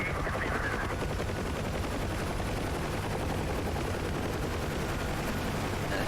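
UH-1 Huey helicopter door-mounted minigun firing in DCS World: a loud, unbroken buzzing roar of very rapid fire lasting about six seconds at a constant level, close by, with no talk.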